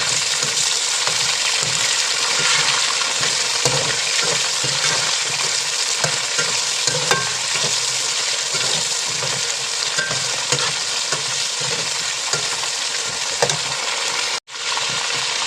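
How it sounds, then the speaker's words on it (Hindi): Bone-in chicken meat frying in a pot, a dense loud sizzle running steadily throughout with faint stirring clicks, close and without voices, cutting out briefly near the end. "आपने गोश्त को इसके अंदर अच्छे से फ्राई करना है"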